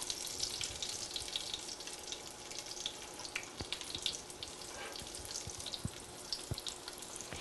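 A batch of food frying in a pan gives a steady faint sizzle with scattered crackles and pops throughout, close and continuous without speech.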